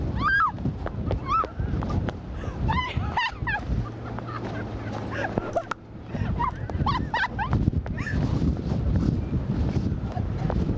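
Strong gusting wind in Palm Springs buffets the microphone with a constant loud, rumbling roar, heard up close under bursts of talking and shouting.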